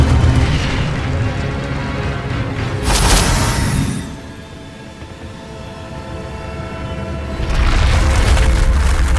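Incendio fire spell cast in the Hogwarts Legacy video game, a loud burst of flaring fire and rumbling booms, with a sharp bright flare partway through and a second surge near the end, over constant game ambience.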